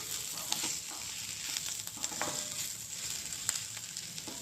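Bitter gourd curry fries in a pan with a soft, steady sizzle and faint scattered stirring clicks, close and fairly quiet, with no voices.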